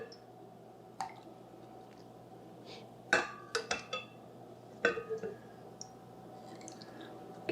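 Cream being scooped from a jar of raw, unpasteurized Jersey milk: soft wet squishes and small clinks of the spoon against glass, a few grouped close-up clicks and drips over a quiet background.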